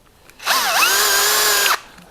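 A Bosch GSR 12V-35 cordless drill-driver on second speed spins a 10 mm ground twist bit into wood: the motor whines up sharply, holds a loud steady pitch for about a second, then cuts off.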